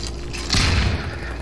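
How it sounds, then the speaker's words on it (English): A grenade explosion in the video game Half-Life 2, a single deep boom rising out of a rumbling background midway through, fairly close and heavy, fading into a low tail. "Just throw all the grenades."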